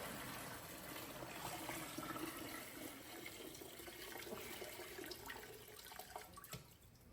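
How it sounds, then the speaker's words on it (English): Old gasoline pours steadily out of a Kawasaki ZX6R motorcycle fuel tank, giving a continuous trickling, splashing wash of liquid that holds at an even, moderate level throughout with no talking. "So now I'm just gonna empty out this old gas."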